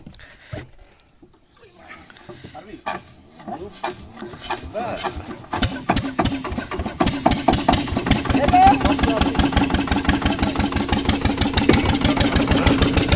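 A fishing boat engine cranks and catches, its chugging pulses speeding up into a steady loud idle, with voices in the background early on.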